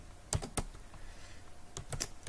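Code being typed on a computer keyboard, quiet close keystrokes coming in small clusters of sharp clicks with short pauses between them.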